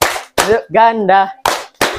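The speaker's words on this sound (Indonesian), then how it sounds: "Tepuk tunggal, tepuk ganda," Children in a public speaking training class clap together in short, loud bursts, two at the start and two at the end, around a brief chanted or sung voice in the middle.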